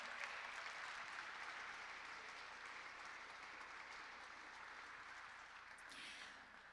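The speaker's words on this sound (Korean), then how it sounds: "다시 한번 뜨거운 박수 부탁드립니다" At an award ceremony, a large audience gives sustained applause, a steady wash of many clapping hands heard somewhat faintly, easing slightly toward the end.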